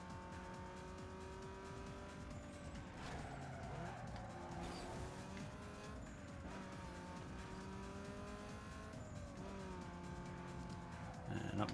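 Racing car in the video game Need for Speed Underground 2, an engine droning and shifting pitch through gear changes with tire squeal and skids, loud and continuous mid-race with no talking.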